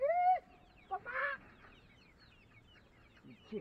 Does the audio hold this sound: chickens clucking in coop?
yes